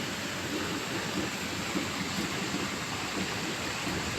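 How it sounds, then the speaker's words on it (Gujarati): Heavy rain pours steadily in a continuous, dense, even hiss with no breaks, fairly soft in level and with no voices over it. "વરસાદ બંધ થવાનું નામ નથી લેતો આજે."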